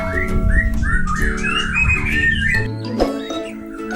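A white-rumped shama sings a run of clear, rising whistles and chirps, fairly close and continuous, over a steady low hum.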